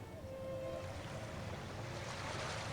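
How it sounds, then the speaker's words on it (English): Water rushes loudly in the Arcanum role-playing game, a steady broad wash like surf and wind that continues evenly throughout at moderate level with no other sounds. "the water is loud today"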